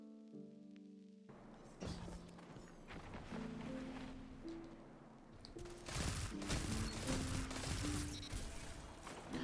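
Pulse rifle bursts in the video game Destiny crackle in rapid clustered volleys over game music with sustained tones, growing denser and louder in the second half.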